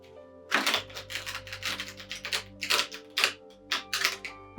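A deck of cards is being shuffled close by, with a series of quick riffling bursts and soft clacks in an irregular rhythm over a low steady hum.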